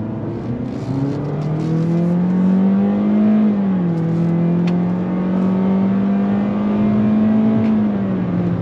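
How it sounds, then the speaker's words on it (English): A 2022 Toyota Corolla Cross with a CVT and simulated gears accelerates from a stop under throttle, its engine drone rising in pitch and dipping at shifts, heard loud and close from inside the cabin. "I'm actually gonna come to a quick stop here, and then we're gonna go on throttle."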